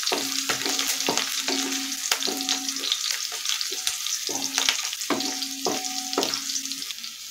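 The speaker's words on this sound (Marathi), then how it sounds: "लसूण चांगला लाल होईपर्यंत परतायचा।" Garlic fries in a pan with a constant bright sizzle, broken by repeated scraping strokes of a spatula stirring it, close and fairly loud with no talking.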